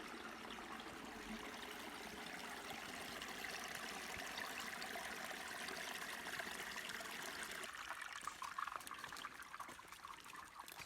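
Water runs continuously over rocks in a creek, a steady rushing and trickling that shifts slightly in tone toward the end.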